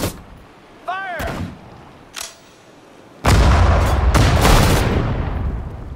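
Heavy gunfire and artillery booms in the Pacific War setting of the Sudden Strike 4 strategy game, with a loud, sustained barrage following a few sharper earlier blasts and a brief voice.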